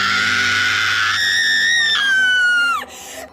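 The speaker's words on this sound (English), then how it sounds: "And then, a scream." A single long, shrill scream rises and holds for nearly three seconds, then bends sharply downward and cuts off, loud and close, used as a horror sound effect in a ghost story.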